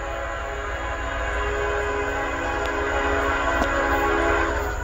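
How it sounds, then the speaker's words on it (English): A CSX freight train heading northbound rumbles steadily past at close range, its horn sounding throughout over the continuous rolling noise of the railcars. "So guys, got a train coming."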